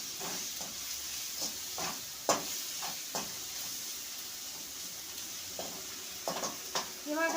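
Masala with powdered salt stirred as it fries in a pan for paneer butter masala, a steady close sizzle broken by scraping strokes of the spoon, with no talking.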